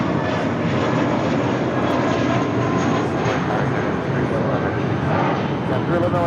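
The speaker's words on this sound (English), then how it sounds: "That is JetBlue Airways 2735 taking off to San Francisco on an A320." A JetBlue Airways Airbus A320 taking off toward San Francisco, a loud continuous roar of jet engines with a broad rushing noise that holds steady throughout.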